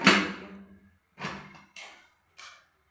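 A pressure cooker lid is closed in a home kitchen, heard as a sequence of four close, separate clanks and thuds with short pauses between them.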